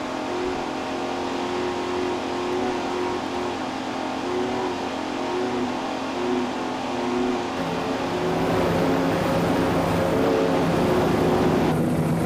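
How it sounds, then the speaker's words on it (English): A racing powerboat driven by two 825 hp Stotler Racing engines roars past at a world championship offshore race, a loud sustained engine drone that shifts in pitch and swells near the end, with no talk. "Boat powered by 2 825 horsepower Stotler Racing engines."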